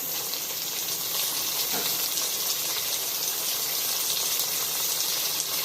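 Onions frying in a pan as chopped tomatoes go in for sambhar, giving a steady, dense hiss of sizzling oil that continues evenly throughout with no clear breaks.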